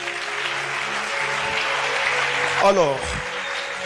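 A church congregation applauds and cheers to acclaim Jesus during a service, steady loud clapping throughout, with a voice speaking briefly near the end.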